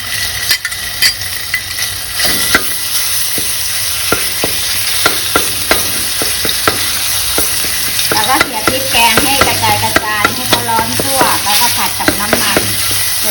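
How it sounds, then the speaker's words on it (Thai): Thai curry paste stir-frying in hot vegetable oil in a wok, a loud close sizzle with frequent sharp spatula scrapes and clanks against the metal, no speech. "ใส่น้ำมันพืชลงไป จากนั้นเราก็ใส่พริกแกง ลงผัดให้หอม"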